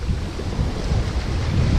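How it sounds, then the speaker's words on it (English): Wind of about 14 to 15 knots rushes steadily at sea aboard a Hallberg-Rassy 54 sailing yacht off Puerto Rico, a dense low roar buffeting the microphone along with wash from the water. "The wind is about 14-15 knots."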